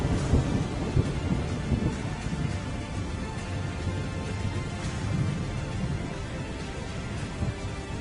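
Monsoon downpour with thunder, a dense steady roar of rain mixed with low rumbling throughout, heavy and continuous with no voices.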